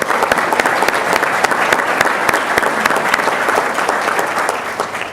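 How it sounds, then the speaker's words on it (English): Audience applause at a morning program for a disability-focused event, many people clapping in a dense, steady wash with sharp individual claps standing out, loud and close, continuing without pause. "So please give them all a round of applause."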